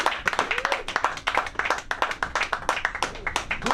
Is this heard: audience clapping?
yes